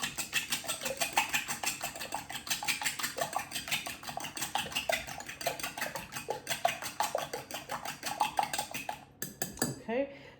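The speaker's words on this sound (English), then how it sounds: "Use your fork then to beat it." A fork beats carrot cake mixture in a bowl, making rapid, continuous clinking and scraping against the bowl, close and bright, ending with a few separate knocks.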